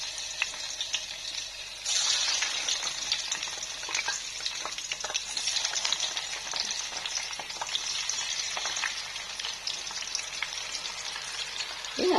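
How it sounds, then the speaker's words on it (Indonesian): Food frying in a pan on a home stove, a steady close crackling sizzle that grows louder after a couple of seconds and continues throughout with no talk. "Aku mau goreng aja ya."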